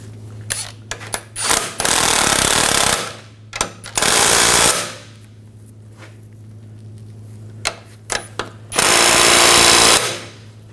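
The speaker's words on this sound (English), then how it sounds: "we can tighten that nut down" An impact tool tightens the nut on a front lower ball joint of a 2000-2006 BMW X5. It fires in three loud sustained bursts, separated by quieter clicks and handling noises.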